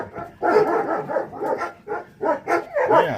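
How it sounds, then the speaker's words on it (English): Several dogs bark in short loud bursts at close range as they come running up to a door, with a few yips and whimpers mixed in between the barks. "And here come the dogs."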